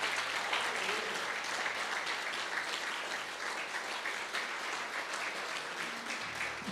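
Church congregation applauding during a sermon, a steady broad wash of clapping that holds at an even level for the whole stretch with no voices over it.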